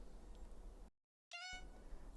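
Third sample layer of a remix built from project stems: a brief high-pitched vocal tone with a glitchy cut, heard between two abrupt drops into silence amid a dense electronic texture.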